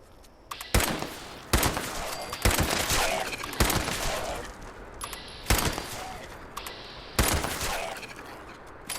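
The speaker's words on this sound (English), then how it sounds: "When you have the music off, those gunshots really vibrate through the whole world." Gunfire in the video game Fallout 76, heard with the music turned off: about seven sharp, booming shots at irregular intervals, each followed by a rumbling echo tail.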